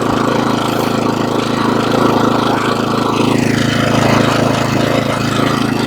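A Toro Snow Master snowblower engine runs steadily at half choke, a loud, continuous close-up drone with a slight wavering in pitch and no pauses.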